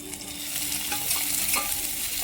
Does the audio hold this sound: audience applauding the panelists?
no